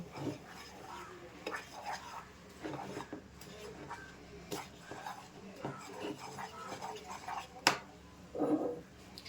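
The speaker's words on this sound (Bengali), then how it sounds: "গুঁড়ো দুধটা দিয়ে দিচ্ছি আর এখানে একটু লবণ দিয়ে দেবো এটাকে মিশিয়ে নেব" Powdered milk and salt mixed for orange malpua batter in a bowl, with light clinks and scraping strokes of a spoon, quiet and close, alongside a voice talking.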